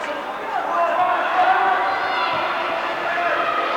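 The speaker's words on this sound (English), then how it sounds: "Not a real big crowd down here tonight, but a vocal crowd." A small but vocal crowd at a high school hockey game cheers and hollers in a sustained, roomy roar, with a commentator talking over it.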